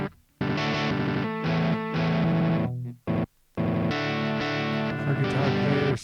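An electric guitar runs through the built-in effects of a Roland SP-404 MK2, its sustained chords heavily distorted and chorused. They play loud and continuous, broken by a couple of short gaps.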